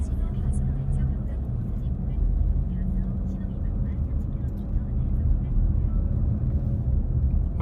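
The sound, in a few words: car driving on a bypass road in Incheon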